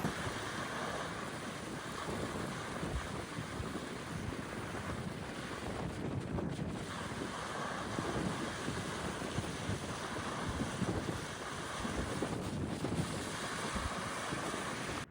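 Wind and waves on an empty sandy beach in Ireland: steady gusting wind buffeting close and loud, with a continuous wash of surf beneath it and no voices.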